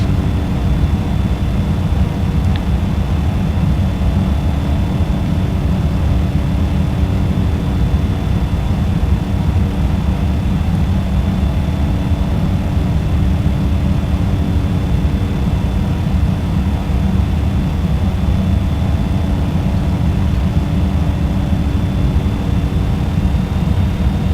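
A simulated aircraft engine in a flight simulator drones steadily and evenly for the whole stretch, a constant low rumble with no breaks and no voices.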